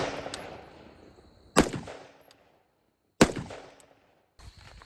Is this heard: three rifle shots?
yes